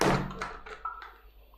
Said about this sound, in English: I'm just going to open the door slightly again.